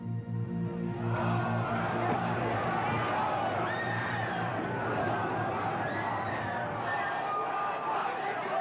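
A large protest crowd at the 1968 Democratic Convention in Chicago makes a dense, continuous roar of massed voices, steady and loud throughout, with a low hum underneath at the start.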